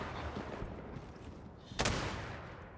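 Shotgun fire in XDefiant, a single sharp, loud blast near the end, preceded by a low, continuous backdrop of game battle noise.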